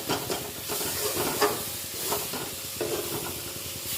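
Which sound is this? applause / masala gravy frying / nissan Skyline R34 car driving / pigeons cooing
masala gravy frying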